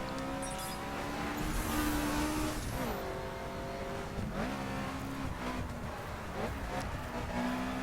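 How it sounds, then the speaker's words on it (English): A Subaru BRZ in the racing game The Crew revs high and screams through the gears, pitch climbing and dropping at each shift, with tire squeal and road noise in a continuous game mix. "It's high revving and screaming, and then you change gears, and then it sort of drops out on power."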